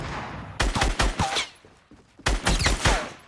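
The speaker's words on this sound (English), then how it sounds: "Oh my gosh, this shotgun's amazing." Shotgun blasts in Fortnite, two clusters of sharp, loud booming shots in quick succession, each burst several rapid reports, with a brief quieter gap between.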